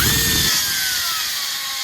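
A drill with a small carbide bit enlarges a hole in the frame of a 1934 Ford. The whining grind is loud and close, with a high tone that slowly falls as the cutting goes on, and no one speaks.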